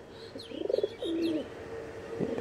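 Andhra red-headed pigeons coo nearby in a quiet space, giving a couple of low, rolling calls followed by a softer trailing coo.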